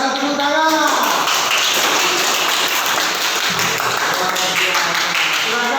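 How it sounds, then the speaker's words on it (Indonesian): A classroom of children claps together in a steady burst of applause, close and continuous, with young voices chattering faintly underneath. "Luar biasa, tepuk tangan."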